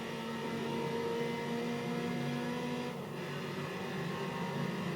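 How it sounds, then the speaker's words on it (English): The engine of a Mazda MX-5 racing in Gran Turismo 3, a steady droning hum held at constant revs with a brief dip in the middle, moderately quiet and without talk. "That MX-5 sounds pretty awesome."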